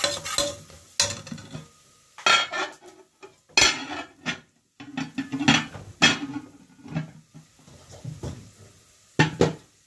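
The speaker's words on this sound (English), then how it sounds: "So I'm going to stir the curry" Beef curry being stirred in a pot during Jamaican home cooking, with a spoon scraping and knocking against the metal in irregular bursts, close and fairly loud, alongside a light sizzle and no talking.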